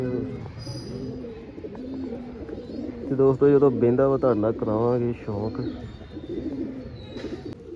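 A pigeon perched on a rooftop water tank near a house coos in soft, repeated low notes, while someone talks nearby over part of the calls.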